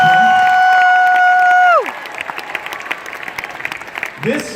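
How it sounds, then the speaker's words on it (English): Large indoor crowd at a Jr Riders youth rally in Ottawa breaks into applause and cheering for Team Saskatchewan, Canada's CFL NFL Flag Football champions. A sustained electronic tone comes first, then dense clapping and crowd noise carry on steadily. "big round of applause for Team Saskatchewan"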